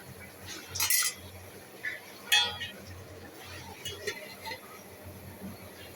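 A metal lid clinks down onto a cooking pot of beef tehari, two short, bright knocks about a second apart, fairly close, over a low steady background hum with faint voices.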